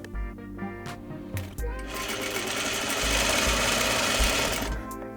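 Sewing machine stitching a pocket facing to a pocket bag lining piece with a quarter-inch seam, a loud close-up rapid mechanical buzz that starts in short bursts and then runs steadily.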